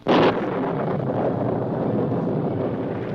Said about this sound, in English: a bolt of lightning flashed across the sky and met the earth at the top of Thunder Mountain